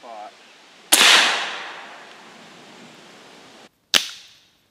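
A Benjamin Bulldog air rifle fires, a sharp loud crack followed by a long fading hiss and trailing noise, then a second sharp impact report near the end.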